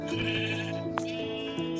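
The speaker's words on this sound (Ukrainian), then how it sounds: "жила собі вівця, яку б'ють палкою" A sheep in a modded video game bleats repeatedly while being struck with a stick. The cries are loud, close and steady, and overlap in a continuous run.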